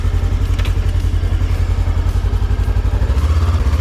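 A VOGE 525DSX adventure motorcycle pulls away into a forest, its engine giving a close, loud, throbbing pulse that climbs slightly in pitch near the end as it accelerates, with no voices present.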